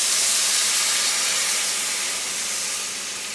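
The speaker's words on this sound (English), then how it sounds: "we're going to take this beef broth, and we're just going to add it all to the pan like this" Beef broth poured into a hot pan, a loud, steady steamy hiss and sizzle that continues for the whole clip and fades slightly toward the end.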